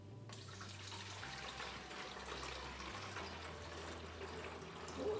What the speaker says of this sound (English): So, I'm going to fill it up with water.